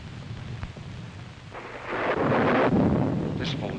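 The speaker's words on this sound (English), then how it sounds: "You probably noticed there's a bad storm going on" Thunder during a bad storm, a distant low rumble building into a loud, sustained roll of thunder that fills the second half, with no voices heard.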